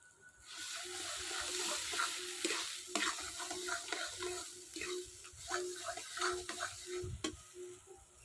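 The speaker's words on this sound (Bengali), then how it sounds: "এবার যত সময় দলা না লাগে তত সময় ভাজতে থাকবো।" Mashed beans with turmeric fry in a pan as a spoon stirs and scrapes in repeated, uneven strokes over a faint, steady sizzle. No one speaks.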